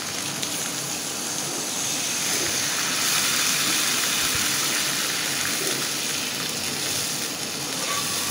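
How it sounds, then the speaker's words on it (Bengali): Water poured into a hot pan of frying hilsa fish with spices gives a steady, bright sizzling hiss that holds for several seconds, swelling slightly midway, with no voices. "পানি দিয়ে দেব"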